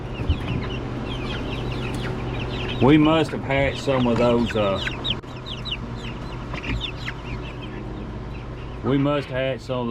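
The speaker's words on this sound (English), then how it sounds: "We already got a mean rooster." Chickens cluck and squawk repeatedly in bursts nearby, with a person talking quietly underneath.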